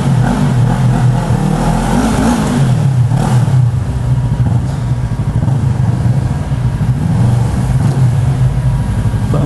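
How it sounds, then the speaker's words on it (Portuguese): A Yamaha MT-03 motorcycle engine revs hard in a supermarket parking lot, a loud, close, throaty roar rising and falling through repeated throttle blips with no talk over it. "que o ronco da moto fica tão lindo nesse lugar."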